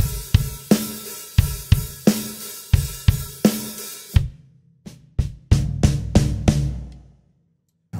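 A drum kit plays a bar of a beat with kick, snare and hi-hat, then breaks into a short 2/4 fill of separate accented hits and crashes that trail off, loud and close with no talk.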